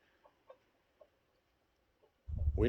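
Free-ranging chickens in a yard give a few soft, scattered clucks, faint and spaced out, before a louder, closer burst of squawking at the end.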